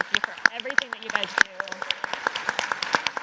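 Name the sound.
round of applause at a forum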